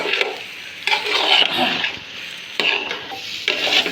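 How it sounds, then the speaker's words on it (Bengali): Rice for pulao is stirred and fried in a pot, with repeated bursts of scraping and rustling sizzle in a loose rhythm of about four strokes, close and fairly loud. "এইভাবে নেড়ে চেড়ে চালটা মোটামুটি ভাজা হয়ে আসছে"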